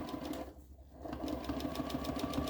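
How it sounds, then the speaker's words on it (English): A sewing machine runs close and steady, stitching a stars and stripes table runner with a fast, even mechanical chatter that dips briefly before resuming. "I'm going to just do some tight stitches and lock those stitches in"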